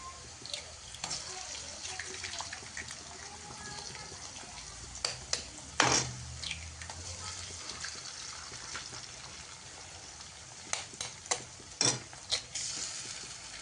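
Eggs cracked into a hot pan and frying for Maharashtrian egg bhurji, with a steady low sizzle under scattered sharp taps and knocks, including a loud crack near the middle and bursts of clatter toward the end.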